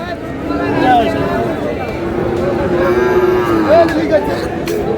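A Sahiwal bull calf at a cattle market in Madaripur moos several times, close and loud, drawn-out calls amid a busy crowd with people talking throughout.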